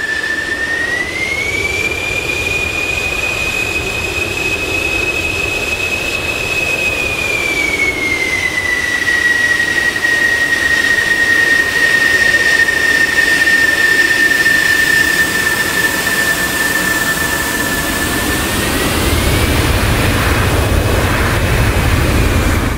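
An F-16C jet engine in DCS World taxis with a loud, constant roar and a high whine that rises, holds and slowly drifts, steady throughout with no voices.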